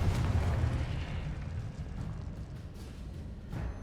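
Explosive spells go off in a Hogwarts Legacy battle as a deep, rumbling blast that fades into a churning low roar, followed by fainter bursts. No one speaks.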